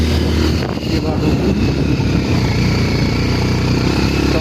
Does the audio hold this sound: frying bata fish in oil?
no